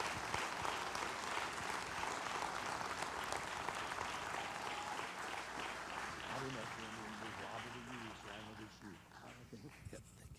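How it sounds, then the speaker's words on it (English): A church congregation applauds to welcome a guest speaker, dense clapping filling the first half and thinning out, while a voice talks over the later part. "I want y'all to let him know how much we appreciate him being here by giving him a hand clap of appreciation."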